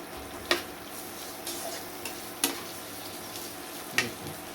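Long-sliced onions sizzle softly in a pan while a utensil stirs them, giving three sharp ticking scrapes against the steady frying hiss.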